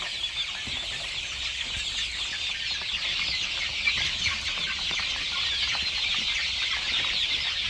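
Young chickens cluck and peep steadily at a moderate distance, a continuous flock chatter with occasional wing flutters and no voices.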